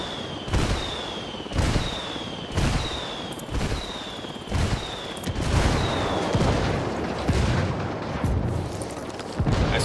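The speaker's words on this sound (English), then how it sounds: "I'm calling for indirect fire." Artillery strike in Ghost Recon Wildlands, a string of heavy booming impacts about one per second, each with a whistling incoming shell ahead of it, loud and close, building into a rumbling barrage.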